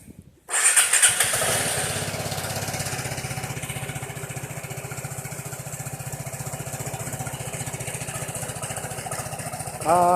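A Vespa Sprint 150 3V scooter with about 11,600 km on it starts after a brief silence, then idles steadily with a close, even putter. The engine blips again near the end.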